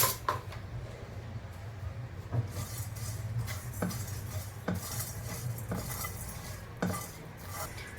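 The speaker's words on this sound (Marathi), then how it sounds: "काळी मिरी आणि जिरे आणि कसुरी मेथी ह्याला आपण ड्राय रोस्ट करून घेऊया।" A spoon stirs and scrapes fennel, black pepper, cumin and kasuri methi dry roasting in a pan, with intermittent sharp metallic clinks and soft rustling over a low background hum.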